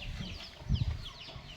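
Native chickens on a poultry farm give a few faint, low clucks near the middle of a short, quiet stretch, with light bird chirps in the background.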